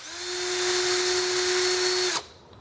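A handheld drill spins a small permanent-magnet motor that is being used as a generator. It gives a loud, steady whine with a sustained tone for about two seconds, then cuts off abruptly into quiet.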